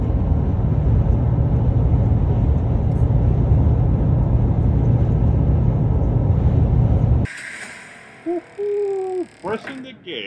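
A 2023 Cadillac Escalade V large luxury SUV roars loudly as its engine accelerates hard, a dense steady rumble that cuts off abruptly, followed by brief excited voices and quieter noises.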